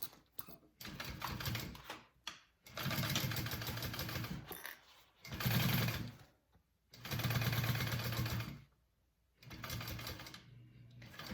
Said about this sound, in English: we're going to stitch that on at an 1/8 inch seam allowance